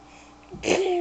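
A baby gives a brief, breathy mock sneeze burst followed by a squealing vocal sound, close and short.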